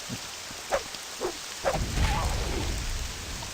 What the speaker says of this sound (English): I just realised it's raining of course in game